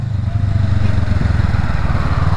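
A Honda CMX500 chopper motorcycle rides along a country road, its engine thrumming loudly and steadily up close with a throbbing low pulse and wind noise, and no voices.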